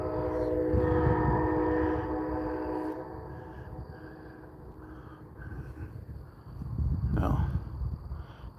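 A train rumbles past at moderate distance, its low droning swelling, fading and then swelling again over several seconds, with no talk.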